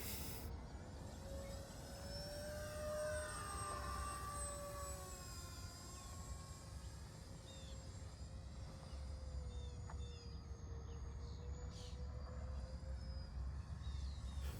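An E-flite DHC-6 Twin Otter 1.4m radio-controlled airplane flies overhead, its electric motors giving a faint, steady whine that drifts slightly in pitch against outdoor background noise.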